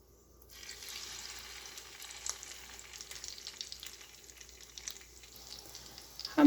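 Rice and potato kebabs fry in hot oil with a soft, continuous sizzle that builds after a quiet start, with faint crackles and no voices.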